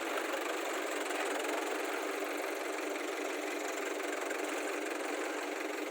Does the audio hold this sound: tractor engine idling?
yes